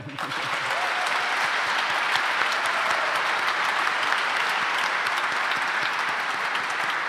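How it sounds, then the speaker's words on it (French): Thunderous applause from a conference audience welcoming a guest on stage, steady dense clapping that holds loud and even for the whole stretch with no talk over it. "Un tonnerre d'applaudissements pour Yann Bonnet."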